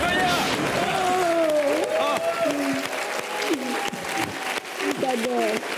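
A television studio audience applauds for a singer, a steady wash of clapping with crowd murmur while voices talk over it throughout.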